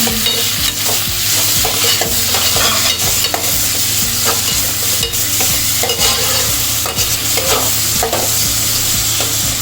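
Tomatoes sizzle steadily in a hot pan while a utensil stirs and scrapes repeatedly against the metal, with no talking.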